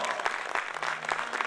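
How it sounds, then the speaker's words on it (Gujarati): Applause from the audience at a Gujarati dayro folk music evening, with a steady crackle of hand claps that stays fairly quiet and continuous throughout. "એક વખત જોરદાર તાળીઓથી વધાવો."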